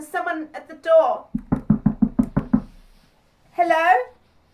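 A quick run of about eight firm knocks on a door during a comedy improv scene, loud and close, with a person speaking just before and another voice answering right after.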